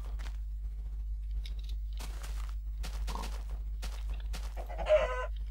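Chicken clucking from the video game Minecraft, a few short, moderately close clucks spread over the clip against a steady low hum, with no speech.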